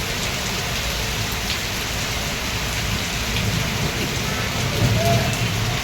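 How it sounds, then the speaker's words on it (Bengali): Heavy rain pours outside a hotel in Digha, a dense, steady hiss of water hitting surfaces that stays loud and unbroken with no voices. "দেখো কি পরিমাণ বৃষ্টিটা পড়ছে।"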